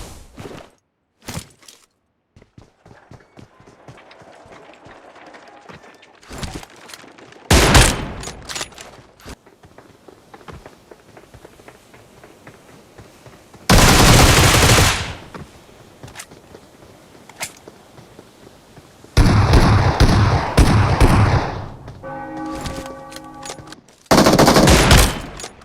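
PUBG gameplay gunfire comes in loud bursts of rapid automatic shots and single cracks, separated by quieter stretches of in-game ambience, with no talking.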